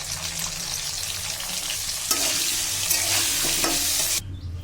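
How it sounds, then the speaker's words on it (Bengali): Two cut potatoes fry in a pan with salt and turmeric, a steady close sizzle with stirring scrapes through most of the stretch, cutting off sharply near the end. "লবণ হলুদ দিয়ে আলুগুলো হালকা করে ভেজে নেব।"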